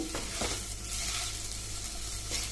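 Sabudana (tapioca pearls) frying in a non-stick kadai, giving a steady, close sizzle with faint stirring scrapes throughout.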